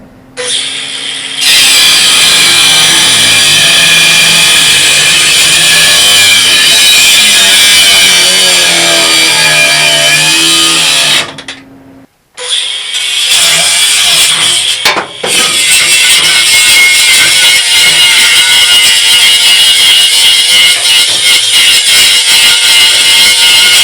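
A loud power tool cuts continuously through a metal part on a combine harvester during a breakdown repair, with a sustained grinding whine that stops briefly near the middle, then resumes rough and steady.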